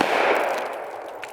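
A shotgun firing 410 birdshot at a door: one sharp, loud blast at the very start that decays into a fading ringing echo, with no talking.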